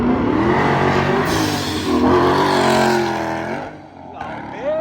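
A Nissan GTR accelerates hard from inside the cabin, its engine roaring loudly and rising in pitch under excited talk, then easing off near the end.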